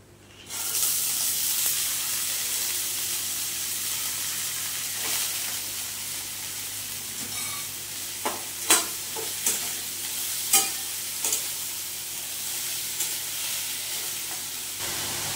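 Moong dal with husk is tipped into onions frying in a pan, setting off a steady, close sizzle with a few short stirring scrapes and knocks. No one talks.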